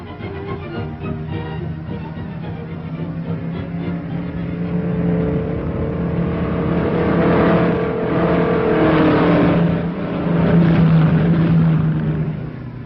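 Race cars roar around a dirt-era speedway track, engines droning steadily and swelling louder as they pass close by, a continuous motor rumble over roughly thirteen seconds with no talk.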